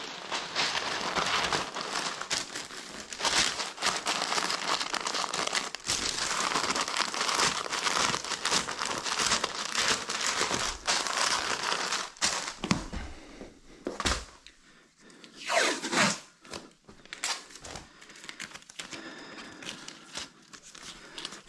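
Paper is crinkled and rustled while being laid over a floor ahead of laminate installation, a long stretch of dense crackling with brief pauses, then sharper intermittent crumples and handling noises close by.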